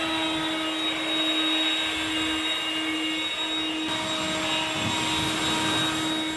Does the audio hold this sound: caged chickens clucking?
no